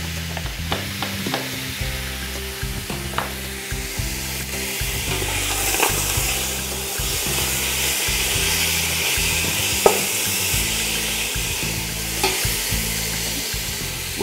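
Sliced onion rings fry in a pan for a wild boar dish, a close, continuous sizzle broken by repeated scraping and stirring knocks against the pan.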